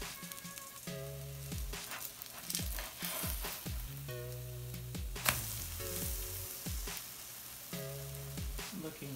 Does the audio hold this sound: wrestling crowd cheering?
no